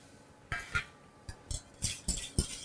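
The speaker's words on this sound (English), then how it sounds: "I'm just going to slowly whisk this in, just so it starts to emulsify" A whisk clinks against a pan as butter is worked into a sauce to emulsify it, producing soft irregular metallic taps and scrapes close by, with no talk.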